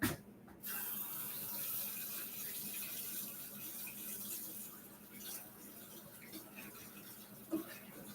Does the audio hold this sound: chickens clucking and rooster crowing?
no